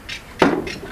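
A bird striking its egg with a stone: a single sharp knock, then a lighter scraping tap, close and fairly quiet.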